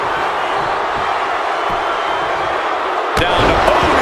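Arena crowd in the WWE 2K25 wrestling video game during a SummerSlam match, a loud continuous roar of cheering that swells near the end with a sharp slam-like impact.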